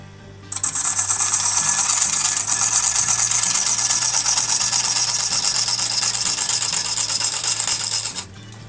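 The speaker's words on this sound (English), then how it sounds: "I'm going to do a push cut as soon as we get to those wings." A gouge making a push cut on a beech crotch bowl spinning on a wood lathe, a steady close hiss and chatter of wood being cut that starts abruptly, holds evenly for about eight seconds, then stops.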